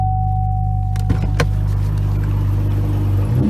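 A 2017 Chevrolet Camaro engine runs at a steady, close idle with a low, even hum. A few sharp clicks sound early, then the drone carries on unchanged.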